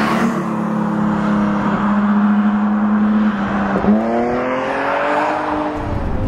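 A BMW M5 E28 five-seat sedan with its M1-derived engine drives along, its engine droning loud and close, holding steady revs and then climbing through a gear change, with no talk.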